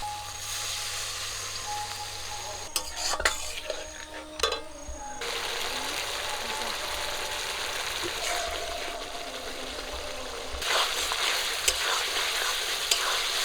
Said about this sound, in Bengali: কষে নেওয়ার জন্য একটুখানি জল দিয়ে দেবো